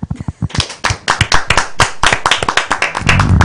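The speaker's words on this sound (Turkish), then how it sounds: "Alkış." A small group claps in a studio, starting as a few sharp, separate claps that quickly build into brisk, close applause, with a rumbling noise rising at the very end.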